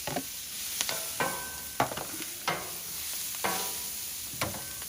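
Onions sizzle in vegetable oil on a Blackstone griddle while a spatula scrapes and moves them around, a steady close frying hiss punctuated by about six sharp scraping strokes, no talking.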